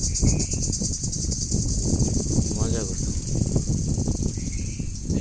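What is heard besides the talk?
cricket chirping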